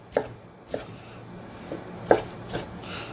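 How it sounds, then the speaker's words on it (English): A knife slicing vegetables on a cutting board for homemade salsa: five crisp, separate chops spaced unevenly over a few seconds, close and fairly quiet. "I usually slice them a couple of times"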